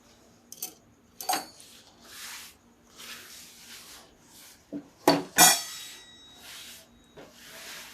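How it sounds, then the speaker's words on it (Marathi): Cooking pots and dishes from lunch are set into a kitchen sink for washing, giving a few scattered metallic clanks and clinks, with a sharper cluster of clatter near the end and quiet between. "भांडी आता घासायला टाकलेली आहेत"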